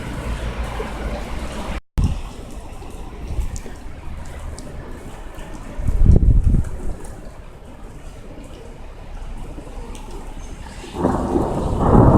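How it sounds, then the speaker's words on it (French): A February thunderstorm in Amiens, France: steady rain with rolling thunder rumbles that swell around the middle and near the end, loud and close, with a brief dropout early on. "Voici donc le petit extrait en rapport avec l'orage"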